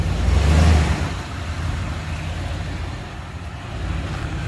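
A 1996 Ford F150 pickup truck's engine runs after sitting unused for a year, a low steady rumble close by with a brief louder surge near the start, no voices.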